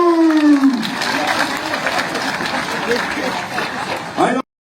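A crowd applauds and cheers at a marathon, a dense wash of clapping mixed with voices, loud and fairly close, cutting off abruptly at the end.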